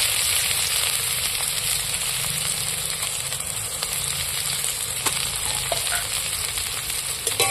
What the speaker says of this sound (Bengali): এবার আমি কাটা পেঁয়াজগুলো তুলে দিচ্ছি তেলের মধ্যে